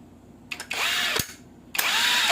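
An impact wrench whirs up twice in short bursts, each spin a steady high-pitched whine that rises and holds, with brief clicks between runs; close and loud.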